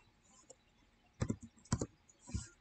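Typing on a computer keyboard at a desk: a few scattered soft clicks, then two quick bursts of clustered keystrokes and a final short tap, close and fairly quiet.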